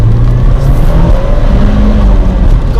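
A Nissan Silvia S15 Spec R with a turbocharged engine accelerates hard in first gear, its loud, steady engine roar rising as the tires spin, heard close up without any talk.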